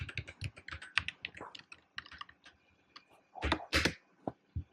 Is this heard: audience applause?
no